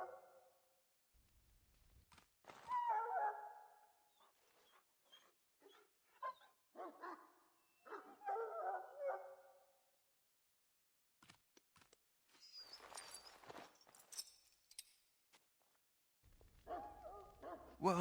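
Hound in Dragon Age: Origins, sick from swallowing darkspawn blood, giving several scattered barks and whimpers with quiet gaps between, mixed with clicking key taps.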